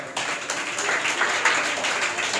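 Enthusiastic audience clapping at a school Teachers' Day program and speech competition, a steady, moderately loud patter of hands lasting a couple of seconds with no talk over it.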